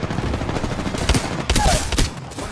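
Gunfire in the Apex Legends video game, a dense loud burst of rapid automatic shots with a few sharper cracks, close and continuous.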